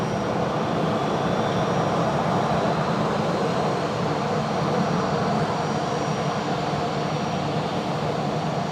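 A Velocity 7.3 airliner gets underway on a wet taxiway at Brisbane Airport, a steady, moderately loud jet-engine whine and rumble with a hiss of spray, continuous and without talk.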